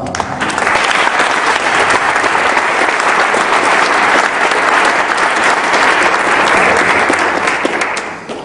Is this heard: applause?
yes